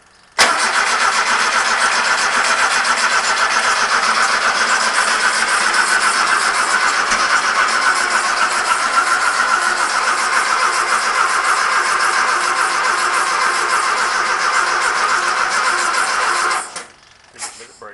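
A Volkswagen single-cab truck engine catches and then runs steadily at a loud, even idle for most of the clip before shutting off near the end, and voices speak briefly around it.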